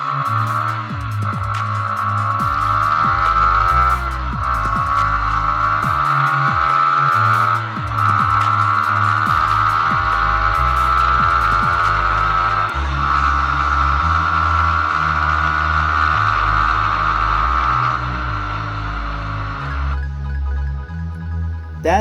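A Yamaha MT15 motorcycle engine revs hard past 7,000 RPM with its variable valve actuation engaged, giving a loud, close intake growl that climbs and drops through repeated gear shifts over a sustained run.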